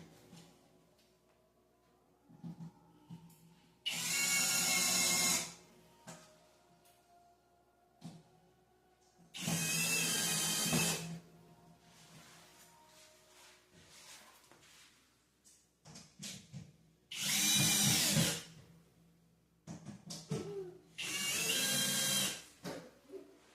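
A power drill drives screws into a flat-pack drink and coffee bar cabinet in four loud, separate whirring bursts of one to two seconds each, with quiet handling clicks and shuffling in between.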